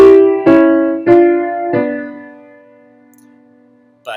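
Four block chords of stacked thirds, each struck together and held, then the last one sustains and fades into near silence. A brief new attack comes right at the end.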